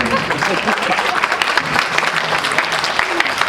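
Concert audience applause rings out after a spring ensemble performance, dense, loud and continuous clapping from a large crowd throughout.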